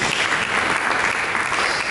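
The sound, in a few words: congregation applauding in church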